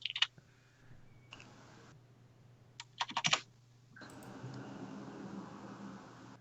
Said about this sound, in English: It's picking up a bit of typing, but it's only natural because Nick's killing a keyboard.